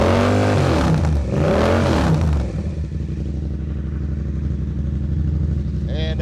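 A motorcycle engine with the exhaust baffle removed revs loudly and aggressively, a harsh sustained roar that rises twice and then settles into a steady, rumbling idle.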